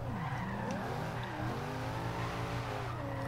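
A Chevrolet SS drifting in Forza Horizon 2 gives a continuous, loud tire squeal that bends and wavers in pitch over a steady engine drone, sustained throughout without pause.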